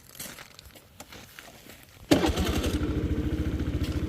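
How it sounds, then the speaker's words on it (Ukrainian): A Honda Today AF61 scooter in good condition starts after a quiet moment of small handling noises, then settles into a close, steady pulsing idle. "Продаю свій чудовий скутер е, у гарному стані, гарно заводиться."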